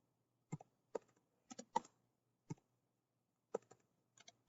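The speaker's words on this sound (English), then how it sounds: "we'll type in all those probabilities" Typing on a computer keyboard: scattered single key presses and short clusters of clicks, close and clear against a quiet background.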